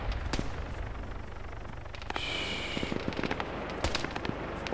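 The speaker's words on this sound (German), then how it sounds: "Schüsse aus Ost, Nordost. Sehr nah." Gunfire in Arma 3 with scattered sharp cracks and a few quick bursts, some close and some distant, over steady low ambient rumble and a brief high whine.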